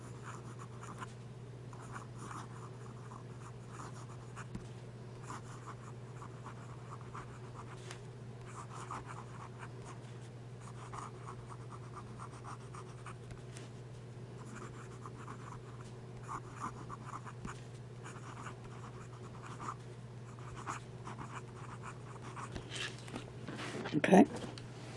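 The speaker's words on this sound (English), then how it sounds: "Now some fast writing." A pen scribbles rapidly across paper in quick, close scratching strokes that continue throughout at a soft, even level, with a brief louder rustle near the end.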